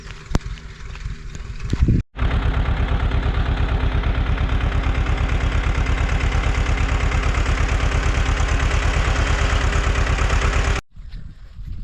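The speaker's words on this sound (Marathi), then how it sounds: "ट्रॅक्टर चालू आहे" A tractor engine runs steadily while the tractor is stuck in mud in a farm field, a loud, close, rapidly pulsing chug that goes on without a break for about nine seconds, cut off sharply at both ends.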